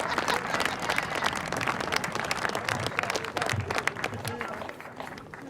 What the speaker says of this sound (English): So can we please have a very special round of applause for two